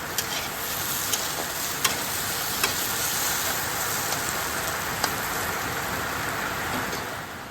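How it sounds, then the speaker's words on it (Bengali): Potatoes fry in a pan close by with a continuous loud sizzle, punctuated by a few sharp clicks of stirring every second or so. "এখানে আলু ভাজছি আমি"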